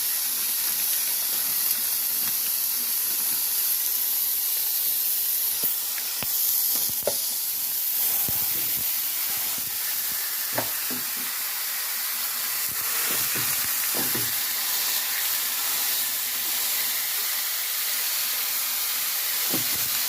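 Ground beef frying in a pan, a loud, continuous sizzle and hiss with scattered crackles and pops spread across the whole stretch, no talking.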